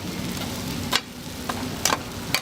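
Rice fries in a wok with a steady sizzle, broken by several sharp spatula scrapes and clacks at an uneven rhythm, close and busy.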